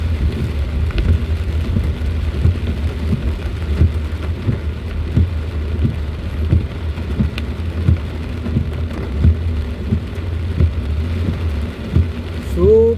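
Heavy storm rain pours steadily and loudly during a typhoon in Alabang Hills, a dense continuous wash with low rumbling underneath and faint repeated thumps, no voices.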